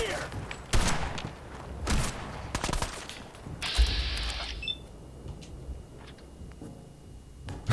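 Scattered gunshots crack out in Fallout 4, a few sharp separate reports spaced over several seconds amid quieter game ambience, with a beeping tone partway through and a voice talking faintly in places.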